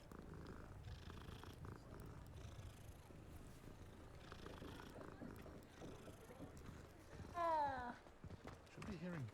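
A cat purring in a video game, a soft continuous rumble sitting low under ambient game sounds and spoken dialogue, with a brief louder rise near the end.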